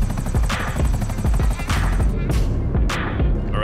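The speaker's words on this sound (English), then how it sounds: "I think they want to take another Hunter helicopter." A Hunter helicopter in a video game flies with a loud, steady rotor throb, punctuated by a few sharp bursts, while a player talks quietly underneath.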